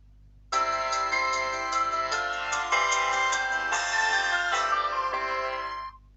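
An Itel Power 700 phone plays its startup melody through its loudspeaker, a bright, loud chiming tune of repeated tonal notes lasting about five seconds before fading out, with no talking.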